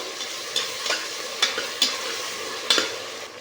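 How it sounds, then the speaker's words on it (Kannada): Salted tomatoes frying in a pan: a constant bright sizzle with repeated spoon scrapes and knocks as they are stirred, about six strokes in quick irregular rhythm, up close and without voices. "ಚೆನ್ನಾಗಿ ಫ್ರೈ ಮಾಡ್ಕೊಳ್ಳೋಣ. ಇದಕ್ಕೆ ಒಂದು 60 ಸ್ಪೂನ್ ಉಪ್ಪು ಹಾಕ್ಕೊತಾ ಇದ್ದೀನಿ ಫ್ರೆಂಡ್ಸ್, ಟೊಮೆಟೊ ಬೇಯಲಿಕ್ಕೆ"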